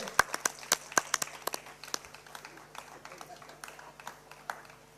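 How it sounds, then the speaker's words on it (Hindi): Audience applause breaks out at a Lions Club of Calcutta North past presidents' honour ceremony, with scattered sharp claps at first that thin into lighter, irregular clapping over a steady room background. "जोरदार तालियों से"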